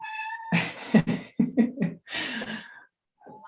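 A cat meows repeatedly up close, drawn-out, whiny calls with short breaths between them, ending in a fainter mew.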